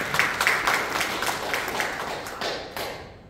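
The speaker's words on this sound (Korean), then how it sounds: "큰 박수 주십시오." An audience at a Korean knowledge forum award ceremony applauds: dense, steady clapping from a crowd that gradually thins out over a few seconds.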